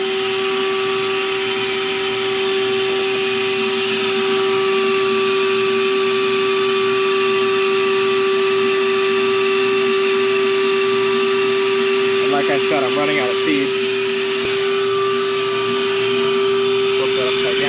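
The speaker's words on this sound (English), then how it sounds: "So now I'll turn the vacuum on." A vacuum cleaner runs continuously at a steady pitch, giving a constant whine and rush of air from start to finish while a person talks over it near the end.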